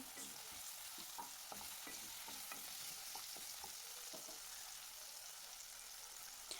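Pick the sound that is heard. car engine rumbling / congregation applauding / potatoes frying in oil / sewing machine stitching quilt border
potatoes frying in oil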